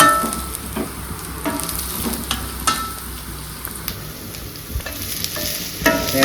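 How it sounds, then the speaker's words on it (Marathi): Moth beans fry in hot oil in a Kolhapuri home kitchen, a steady close sizzle broken by repeated scraping stir strokes of a spoon against the pan. "आता टाकलाय तेल मटकी फ्राय करून घ्यायची आपल्याला"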